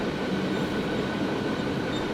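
A freight train rolls along its rails in a steady, loud, broadband rumble with a faint metallic ring, heard close and continuous without voices.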